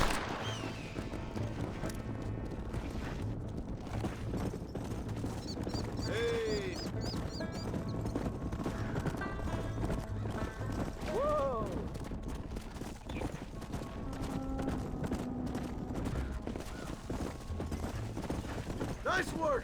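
Horse hooves clip-clopping steadily in the Red Dead Redemption video game, with an occasional whinny, heard at moderate loudness under a continuous game soundscape and spoken dialogue.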